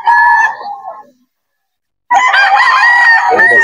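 A young gamefowl stag crows twice, loud and close. The first call trails off and, after a short silence, a second strained crow follows.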